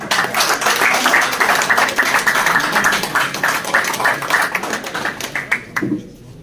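Applause at an award ceremony for a Kashmir pigeon-sports car cup: dense, steady crowd clapping that holds loud and even for about six seconds, then thins and stops abruptly.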